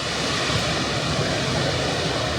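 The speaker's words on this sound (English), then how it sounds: "So you can see the top waterfall where you can swim." A waterfall with an upper swimming pool in the Northern Territory rushes in a steady broadband roar, even and unbroken, with no talk over it.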